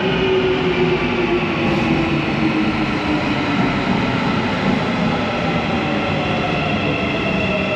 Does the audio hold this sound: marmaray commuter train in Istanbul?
yes